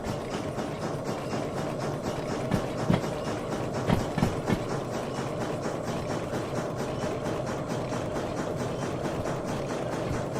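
A steam locomotive in the Derail Valley VR train simulator game chugs steadily in a dense, continuous rumble with a faint rhythmic pulse, loud and close, with occasional clanks over the engine noise.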